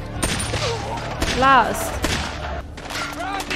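Gunfire from the war film Black Hawk Down plays as a rapid fusillade of shots and bursts at moderate volume, with people talking over and between the shots.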